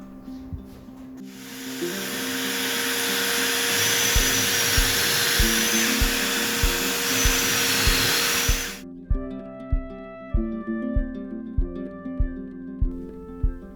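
A power drill bores pocket holes for assembling a modular workbench cabinet, whining steadily and loudly for several seconds before stopping, followed by a series of regular close knocks or clicks.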